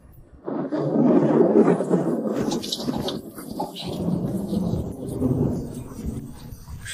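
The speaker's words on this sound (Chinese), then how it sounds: "这雨不像要停的样子。" Deep rolling thunder rumbles on and on over a backdrop of heavy rain, rising and fading in long waves.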